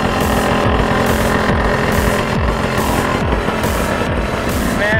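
A vehicle engine driving into a pine and rainforest jungle sends out a loud, steady, rough drone with a pulsing rumble. It stays constant and close for the whole stretch, with no other sound rising above it.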